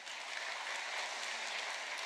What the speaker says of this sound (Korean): 박수로 한번 축복해 주시고